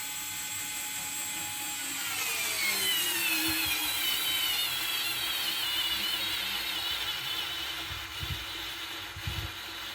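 A Parkside PSSA 4 B2 cordless screwdriver drives a screw, its small motor whining at a high pitch that slowly drops as the load increases, then stopping with a few faint clicks near the end.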